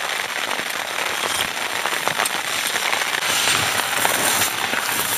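Rain falls outdoors in the Taymyr tundra, a dense, steady patter of drops striking a nearby surface, continuous and fairly loud with no talk.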